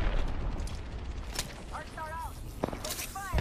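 Grenade explosions and gunfire in the video game Apex Legends form a dense, booming battle rumble, with a couple of sharper blasts and brief chirping game effects.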